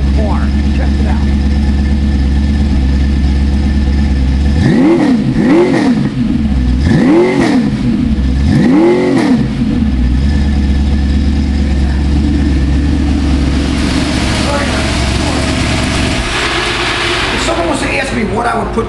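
A car with a 302 V8 making about 300 hp, running 2.5-inch pipes, a header and a 40 series Flowmaster muffler, idles with a loud, lumpy burble, then gives three or four sharp revs before settling back to idle.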